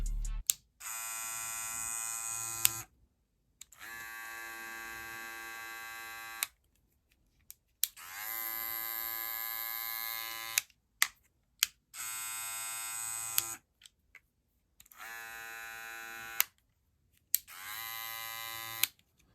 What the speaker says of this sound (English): You can see how they're all pretty quiet clippers, not extremely loud.